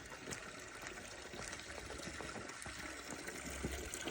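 Mountain spring water runs steadily from a spout at a stone spring, a soft continuous trickle and flow heard fairly faint and close, with no talk over it.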